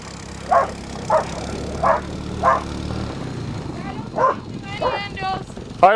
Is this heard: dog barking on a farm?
yes